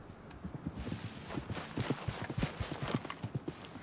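Horse hooves clip-clop in Red Dead Redemption 2, a quick uneven run of hoofbeats that grows busier and closer over a few seconds, moderately loud with no talking.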